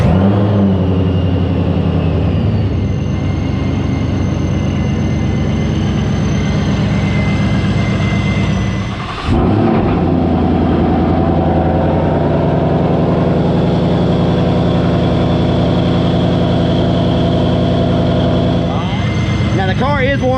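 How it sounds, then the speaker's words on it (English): Car engine fitted with a Vortech supercharger running heritage gear, a loud steady drone with a brief dip partway through before settling back, then a rising rev near the end. "This is the heritage gear, so it's a lot louder."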